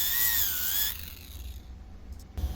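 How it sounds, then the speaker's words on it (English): A Dremel fitted with a sanding pad whines steadily against aluminum to strip off a coating, a close, faint high-pitched buzz that cuts out after about a second, leaving low rumbling handling noise. "Now we're going to work right over here with our Dremel. And the Dremel's got a sanding pad."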